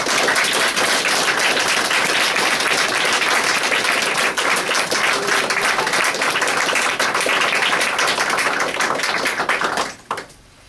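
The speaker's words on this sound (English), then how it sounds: "I think Peter and Danielle deserve a round of applause." Wedding guests applauding the newly married couple at the ceremony, loud, dense sustained clapping from a large room that holds steady for about ten seconds before quickly dying away.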